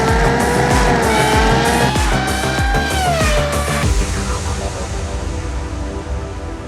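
Cars in a sim racing video game roar past at high revs with squealing tires, engine tones sweeping down before an impact into a wall and fading noise.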